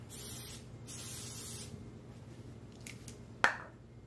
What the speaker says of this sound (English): Little liquid wrench on there.